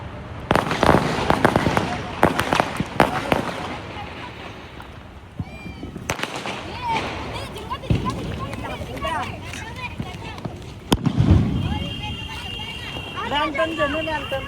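Sky shot fireworks set off during Diwali celebrations burst in several sharp cracks and pops, spread through the stretch amid people chatting and shouting nearby.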